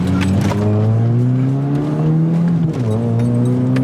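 A Chevy S10 pickup with a new muffler revving hard nearby, loud rising engine drone with a brief dip and pickup again near the end, alone without talking.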